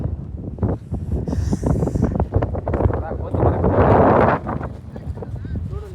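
Strong wind gusting across an open hilltop viewpoint in Chikmagalur, roaring as a steady, loud buffeting against the microphone throughout, with people talking over it.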